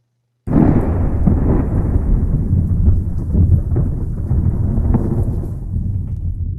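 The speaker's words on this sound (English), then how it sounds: "Started to thunder" Thunder in a radio drama, a sudden deep rumbling roll that breaks in after a brief silence, then sustains loud and heavy for several seconds before slowly easing.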